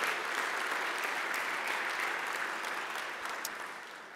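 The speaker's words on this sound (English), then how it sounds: "Grace, can we give a round of applause for a woman who taught so much to my son, who's now doing great work for Noah?" Audience applause at an energy symposium, a steady, dense wash of clapping from a seated crowd that holds evenly for the whole stretch and fades slightly toward the end.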